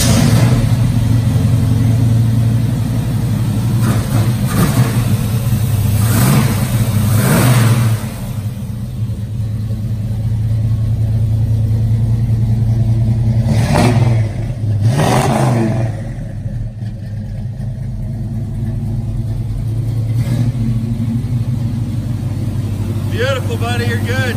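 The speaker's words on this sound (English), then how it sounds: "I'm just going to give you a nice little cold start and a walk around here" A 1969 Camaro Z28 tribute car with a 350 V8 cold starts and idles, giving a loud, steady low rumble close by, with a few swells of revving throughout.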